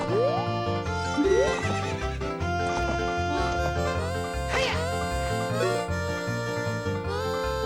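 A horse whinnies in a corral in the video game Ocarina of Time, its rising neighs sounding clearly over a steady melodic background music track, with no voices.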